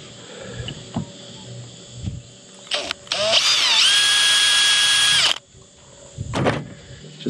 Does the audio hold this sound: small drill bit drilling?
yes